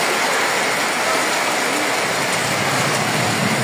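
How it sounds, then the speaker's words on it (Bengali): Heavy storm rain pours down steadily with a strong wind, forming a dense, unbroken roar that holds the same level from start to finish with no voices. "বৃষ্টিও বাড়তেছে, বাতাসও আবার বাড়তেছে।"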